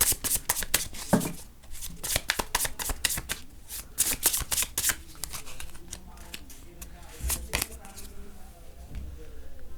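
A deck of tarot cards is shuffled by hand at close range, with quick bursts of crisp riffling and slapping that come in uneven clusters and then thin out toward the end.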